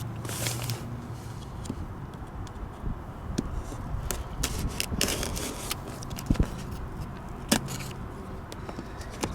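A knife slices through a cardboard shipping box nearby, with irregular scraping and tearing strokes mixed with crinkling packaging and light handling noises, and no speech.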